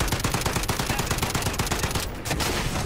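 Rapid automatic gunfire in the Modern Warfare campaign, a dense run of loud, closely spaced shots that keeps going for nearly three seconds with only a brief dip near the end.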